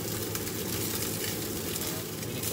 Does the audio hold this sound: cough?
no